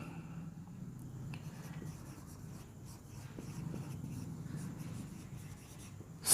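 Pen or pencil scratching steadily across paper while a mathematical proof is written out by hand, a soft continuous rubbing texture close by, with a louder bump at the very end.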